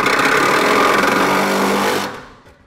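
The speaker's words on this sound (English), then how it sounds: "Now we can take a Sawzall." A Sawzall reciprocating saw cuts metal under a GMC Sierra pickup bed, a loud, rapid buzzing rattle lasting about two seconds before stopping abruptly.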